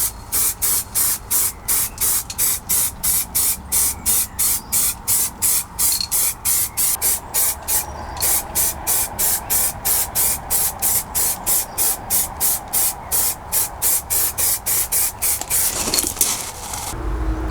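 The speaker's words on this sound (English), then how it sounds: "It's a zinc aluminium spray primer from Colourtone" An aerosol can of zinc aluminium spray primer hisses in rapid, evenly spaced short bursts, close and loud, as parts for a MK 2 Golf sunroof wind deflector are painted.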